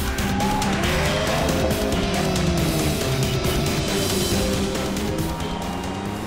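Alfa Romeo 4C sports car cornering hard on a test drive, its engine droning steadily with shifting tones and a faint tire scrub throughout, close and continuous with no talk.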